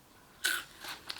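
A single close crunch of dry, bat-shaped Reese's Puffs Halloween cereal being bitten, followed by softer chewing.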